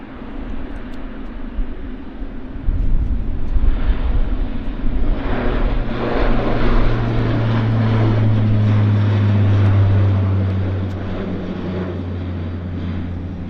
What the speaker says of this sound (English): Okay, Q400 on the roll.